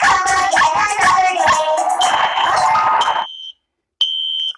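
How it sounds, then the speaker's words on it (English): Cartoon fire alarm rings loudly and continuously over busy music and sound effects, then breaks off into silence and resumes as a steady high electronic tone. "There's a fire alarm on."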